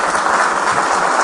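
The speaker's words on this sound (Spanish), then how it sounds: "cuando oigo los aplausos" Dense, continuous applause from a large audience at a Venezuelan political session, steady and loud throughout with no voices standing out.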